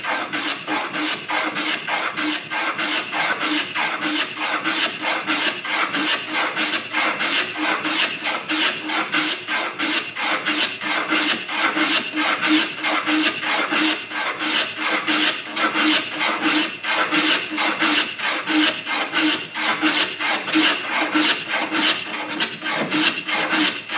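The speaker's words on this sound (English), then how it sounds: "We will chamfer the top." A file or rasp chamfers the top edge of a wooden mounting block for exterior lighting, making steady rhythmic rasping strokes, close and continuous with no talking.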